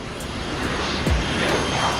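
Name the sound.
B-52 bomber aircraft taking off, Lego plane video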